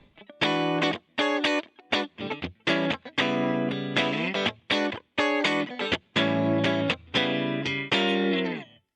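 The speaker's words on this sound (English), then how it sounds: "So this is totally dry guitar here." Dry electric guitar played with no effects, in short bright strummed chords and picked phrases separated by brief gaps, close and loud with no voices.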